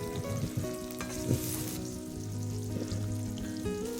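Onions, curry leaves and tomato sautéing in hot oil with mustard seeds for a Tamil anchovy aviyal, a steady close sizzle with faint stirring scrapes and no voices.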